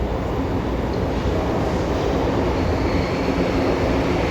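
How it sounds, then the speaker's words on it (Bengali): A train pulls into a busy station on a Saturday. A continuous broadband rumble and rolling roar hold steady at close range, with no clear talk over it. "ট্রেন আসবে, ট্রেনে উঠবো।"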